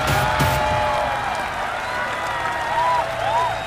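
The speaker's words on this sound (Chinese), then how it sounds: "再一次用热烈的掌声欢迎他们。" An audience at a professional league esports match applauds and cheers to welcome the competing teams. The clapping is steady and crowd-wide, with a voice and bright musical tones over it.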